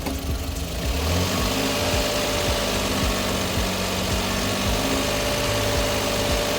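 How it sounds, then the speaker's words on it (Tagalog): A Suzuki DA64V non-turbo engine idles steadily and close by, a low rumbling hum with faint rhythmic knocking, running alone without any voices. "pinainit na muna namin yung engine"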